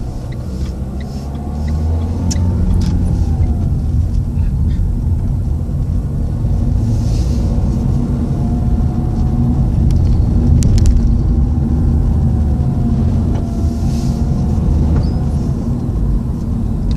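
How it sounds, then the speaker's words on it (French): A car engine rumbles from inside the cabin during a driving lesson in Gennevilliers, a steady low drone with faint rising engine tones as the car gathers speed. "On accélère encore."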